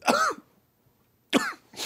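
A man clears his throat and gives a couple of short coughs, close up. Two separate bursts come about a second apart, with quiet between them and no talking.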